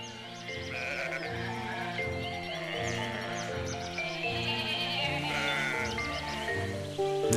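Sheep bleat repeatedly, several overlapping calls in a steady chorus, fairly close and continuous, with no talking.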